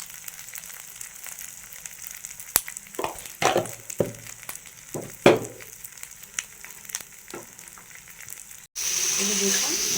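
Spices, tomato and potatoes fry in a pan with a low sizzle and several sharp stirring knocks and scrapes. A louder burst of sizzling rises near the end.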